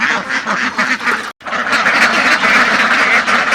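A flock of ducks, given feed mixed with antibiotic, quack loudly and continuously in a dense, overlapping chorus, broken only by one brief gap.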